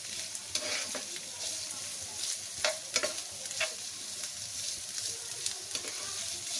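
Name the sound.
frying onions and stuffing mix in a pan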